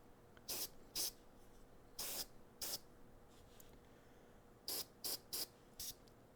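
An airbrush sprays paint onto a tail in short hissing bursts, about eight quick puffs in two clusters with quiet gaps, close and fairly faint.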